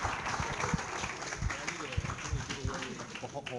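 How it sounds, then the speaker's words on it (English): Lecture hall audience applauding after a student's talk in an engineering class, a steady dense patter of claps that fills the room at even loudness throughout. "All right, let's give Adrian a round of applause."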